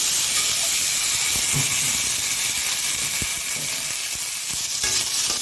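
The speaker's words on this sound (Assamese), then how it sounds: "মাছ ভজা তেলতে আমি এতিয়া চব্জিখন বহাই দিম। জলকীয়া দিলোঁ, অমিতাখিনি ঢালি দিছোঁ।" Green papaya and hot chili hiss and sizzle steadily in oil left over from frying fish, a dense, close crackle that holds without letup for several seconds.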